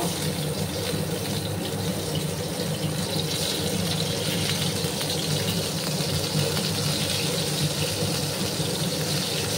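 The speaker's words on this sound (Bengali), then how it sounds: "আর বেগুনটাকে আমি একটু লাল করে ভেজে নেব" Eggplant slices frying in hot oil over a lowered gas flame, a steady, dense hiss and crackle that runs evenly throughout with no talking.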